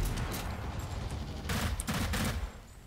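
Gunfire in the shooter game Blacklight: Retribution, a dense, continuous barrage of overlapping shots with a few louder bursts, with no distinct single shotgun blasts standing out.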